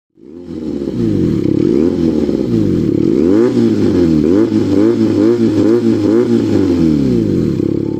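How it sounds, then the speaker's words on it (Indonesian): A loud motorcycle engine with a four-cylinder flat-plane character revs repeatedly close up, pitch swooping up and down in rapid throttle blips, with no talking. "suara yang dihasilkan mesin jenis ini memiliki karakter seperti suara 4 silinder flat plane"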